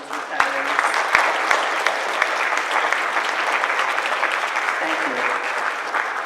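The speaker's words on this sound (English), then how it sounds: "Please join me at this time in applauding these retirees." Warm applause fills a school board meeting for retiring school staff, including a maintenance worker, a dense steady clapping from a seated audience that holds at even loudness from start to finish.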